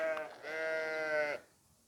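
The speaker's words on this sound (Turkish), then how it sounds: "Şimdi içeride de e, kuzular var." Lambs bleat inside a farm barn: one short bleat followed by a longer, wavering, nasal cry, close and clear, then quiet.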